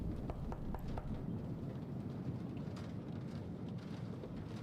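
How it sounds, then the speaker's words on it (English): Steady rain hiss heard from behind a door in the video game Casting Whispers, a dense, even wash of drops with faint low rumbles, continuous and muffled throughout. "I hear rain coming from this one"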